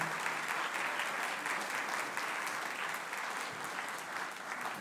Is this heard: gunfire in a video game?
no